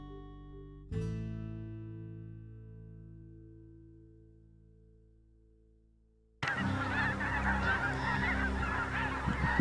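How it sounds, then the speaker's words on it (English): A dense flock of snow geese honks continuously and loudly, a constant overlapping clamor that starts abruptly after a fading electronic tone. "I'll just leave the sound of the geese so you can kind of hear"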